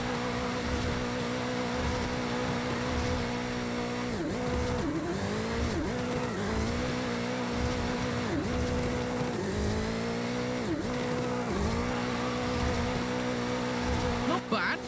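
A 2015 Mustang GT of about 1.5 tons drifting in Forza Horizon 5 in Mexico, its engine holding a loud rough drone that repeatedly dips and swoops as the throttle is worked through the slides, with tire squeal mixed in.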